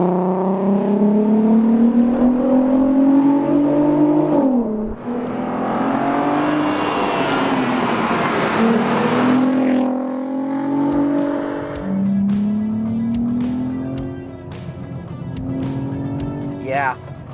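A Volkswagen Golf MK5 R32 engine revving hard in a tunnel, rising and falling pulls with gear changes and loud echoing exhaust, close and dominant throughout.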